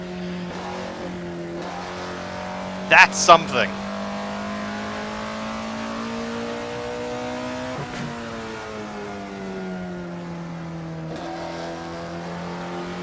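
Alfa Romeo 33 Stradale with a 50-year-old engine, in Assetto Corsa, revving steadily toward 9,000 RPM; a sustained high engine drone rises slowly and falls, with a few brief sharp bursts near the start and someone talking over it.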